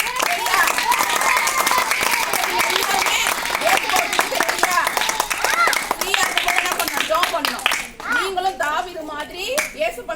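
Children clapping their hands at a roadside Christian gathering for kids, a fast crowded patter of small hands that runs for several seconds and then breaks up into scattered claps, with children's voices and talking mixed in.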